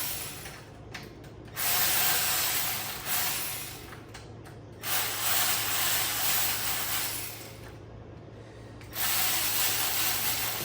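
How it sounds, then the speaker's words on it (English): An M12 cordless ratchet whirs in long, loud bursts while removing headlight parts on a motorcycle, several sustained runs broken by short pauses. "If you got one of these M12 ratchets, it makes your life a little bit easier to take this thing off"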